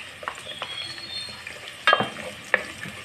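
Garlic and onion sautéing in cooking oil for corn soup, a quiet continuous sizzle close by, broken by two or three louder clinks and scrapes of a utensil against the pan, with no voices.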